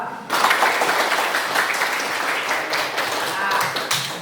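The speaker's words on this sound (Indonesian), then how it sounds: "Kita berikan aplaus dulu bagi mereka yang sudah menjawab." Audience applause for the groups who answered, a steady broadband wash of clapping that starts abruptly and carries on at a fairly even level for several seconds.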